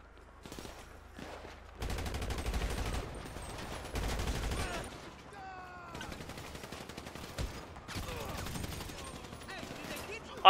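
Rapid bursts of gunfire in the Grand Theft Auto V video game, with dense clustered shots coming in several waves over steady game noise, while a player talks over the action.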